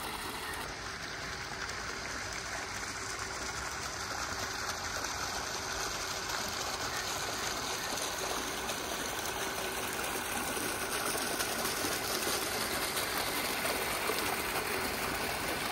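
A pool water filter pump with a cartridge filter runs steadily, a continuous broadband whoosh of moving water with a low mechanical hum, unchanging and fairly close throughout.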